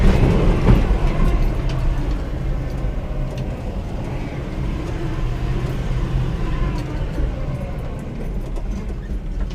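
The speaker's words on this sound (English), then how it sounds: "Transfer case still whines a little bit." A truck with fresh oil, a recent tune-up, a whining transfer case and rubbing tires drives along, its loud, steady drivetrain rumble running without a break from start to finish.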